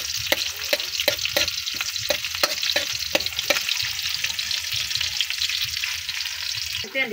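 Food frying in a pan with chili added, stirred with a run of sharp rhythmic scrapes and knocks over a continuous loud sizzle.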